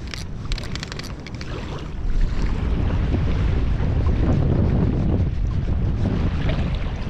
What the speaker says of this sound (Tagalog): lalong lumalakas ang hangin